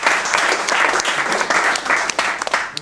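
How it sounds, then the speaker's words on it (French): Applause for a contestant on a French show, steady and loud clapping filling nearly three seconds without a break, scattered sharper claps standing out near the end. "Et alors, applaudissements pour Bart"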